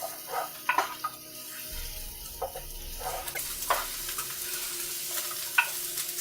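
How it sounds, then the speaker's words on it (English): Food sauteing in a pan, a low continuous sizzle under occasional scraping stirs and clinks of a utensil, fairly quiet and close, with no voices. "we're going to continue to saute this beautifully for"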